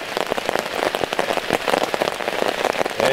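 Heavy rain drums steadily on a camping tarp, a dense, close patter of countless drops with no break and no voices.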